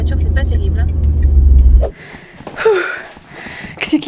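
Inside a car while driving, a loud low engine and road rumble fills the cabin, then cuts off abruptly partway through, followed by quieter room sounds and a voice.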